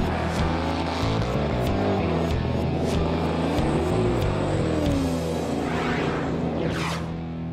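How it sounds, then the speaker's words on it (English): Red 1970 Chevelle SS LS6 454 V8 four-speed muscle car engine rumbling loudly with deep low-end throb, revving and shifting pitch, continuous and close with a passing whoosh near the end. "a red hot 1970 LS6 Chevelle screams your way"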